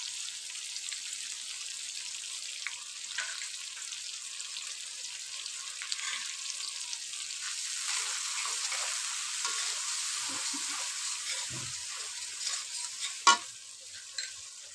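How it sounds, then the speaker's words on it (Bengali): Ground spices with salt fry in a pan for a potato-and-tomato koi fish curry, giving a faint, steady hiss of sizzling oil broken by a few soft stirring scrapes near the end. "মশলাটা একটু ভালোভাবে কষিয়ে নেব"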